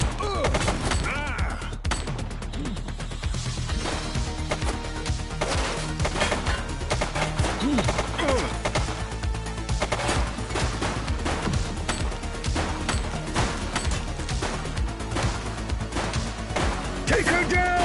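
Dense gunfire from the police action video game The Precinct, rapid bursts and crashing impacts layered over game music and effects, loud and continuous, with voices calling out during the firefight.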